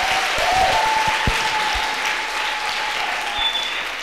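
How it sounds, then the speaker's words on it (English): Steady applause from a church congregation clapping for Jesus, a dense wash of many hands sustained throughout at fairly close range, fading slightly toward the end. "Let's clap for Jesus."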